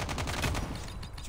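Rapid tap-fired bursts from a BK57 assault rifle in Call of Duty Mobile, a quick run of close, punchy shots fading after about a second, with voices faintly underneath.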